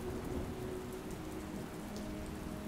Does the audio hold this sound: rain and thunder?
yes